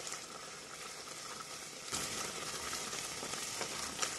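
Pineapple chili pepper jam with chocolate boils in a tall pot, giving a steady dense crackling sizzle with spattering pops that grows slightly louder midway, close and alone.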